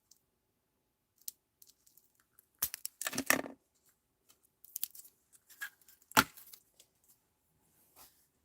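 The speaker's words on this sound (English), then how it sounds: "So I'm just trying to get the plastic off this." Plastic wrapping is pulled and torn off crafting supplies nearby, giving sparse crinkles, clicks and a few sharper tearing bursts against near silence.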